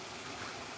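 Water flows from Lake Charles through an 1800s Shubenacadie Canal lock in Nova Scotia at low water level, a short, steady broadband rush with no voices.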